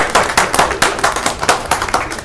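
Small crowd at a city council meeting claps loudly and steadily, individual sharp hand claps distinct and close, a continuous round of applause with no talking.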